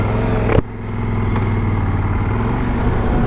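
A QJ Motor SRT 800 SX motorcycle engine, a 2024 model, runs with a steady, fairly loud idle hum after a brief sharp clunk, holding an even tone to the end.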